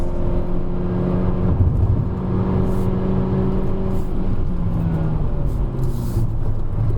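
A Volkswagen Vento 1.2 TSI with an automatic gearbox drives up the Genting hill road, its engine a steady, close, loud drone that holds throughout with no voices over it.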